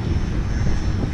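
A passenger airplane passing overhead above Minneapolis on a windy rooftop, heard as a steady, loud, broadband roar that holds unchanged for the whole brief moment, with no voices.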